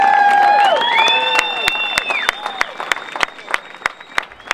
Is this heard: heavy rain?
no